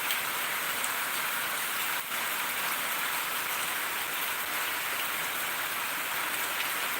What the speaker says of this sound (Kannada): ಸೊ ನಿಮಗೆ ಕೃತಿಕಾ ಮಹಾನಕ್ಷತ್ರದ ಮಳೆ ಈ ರೀತಿಯಾಗಿ ಇರ್ತದಂತೆ ಬಂದರೆ